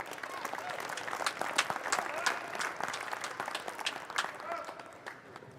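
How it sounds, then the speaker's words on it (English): Audience at a youth night high school wrestling meet in a gym applauds the wrestling coaches, a steady dense crowd clapping lasting several seconds before tapering slightly at the end. "So please, a round of applause for all of them."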